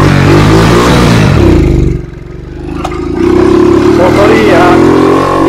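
A repaired motorcycle's engine runs loud and close, its note rising and falling as the throttle is blipped, dipping briefly before revving back up.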